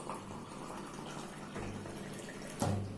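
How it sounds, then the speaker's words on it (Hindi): Water filling a tall glass that already holds sattu powder, a steady close pour running for about three seconds and growing briefly louder near the end. "अब मैं इसमें पानी फिल कर लूंगी बाकी पूरा।"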